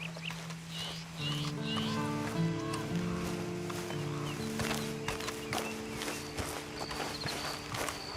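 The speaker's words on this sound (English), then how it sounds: "And you better get on this horse" Horse hooves clip-clop at a walk in the video game Red Dead Redemption 2, a steady moderate rhythm of hoof taps under sustained musical tones and game ambience, with a voice speaking briefly.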